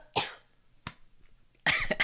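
Person coughing in three separate bursts, a sharp one, a brief short one, then a longer rough cough at the end, close and clear with no talk over it.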